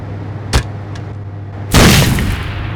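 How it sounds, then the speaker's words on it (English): A grenade thrown by an AI teammate blows up in a tactical shooter video game: a short sharp crack, then a loud broad explosion with a rumbling tail, played alone without voices. "let's start with the order to have them throw a grenade"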